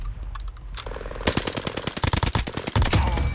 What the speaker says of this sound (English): I don't know, but it sounds like a turret